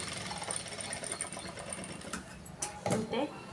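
A sewing machine stitches a blouse at stitch setting 5, a fast steady mechanical whir close by, with a voice speaking over it near the end.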